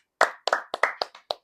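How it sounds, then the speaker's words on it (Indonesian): A handful of people clap in short, uneven bursts, about seven sharp, close claps over a second and a half, with no talking. "tepuk tangan dulu."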